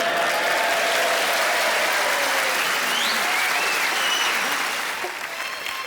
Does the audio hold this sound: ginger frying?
no